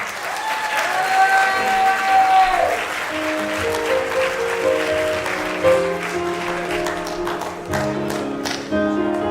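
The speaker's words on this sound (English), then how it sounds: "Big round of applause for these two." Wedding reception guests applaud warmly and continuously as a couple enters, the clapping steady and full while music with sustained tones plays underneath.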